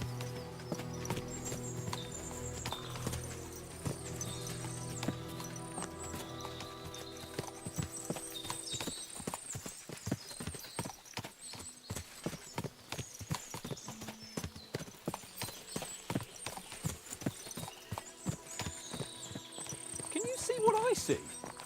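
Rhythmic clip-clop of several horses walking at a steady pace, hooves clattering on a hard surface, with music and voices beneath, in the video game Kingdom Come: Deliverance 2.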